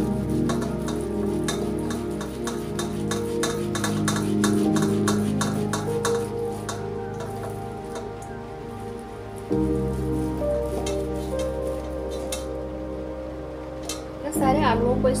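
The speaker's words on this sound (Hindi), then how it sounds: "सारे आलूओं को इस तरह से ग्रेटर से ग्रेट कर लिया है।" Potatoes are grated by hand, with quick rhythmic scraping strokes repeating steadily for several seconds before thinning out into scattered, softer rubs.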